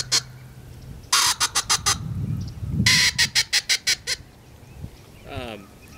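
A duck call imitates a blue-winged teal hen: two quick bursts of sharp, rapid quacks, each trailing off in a descending series.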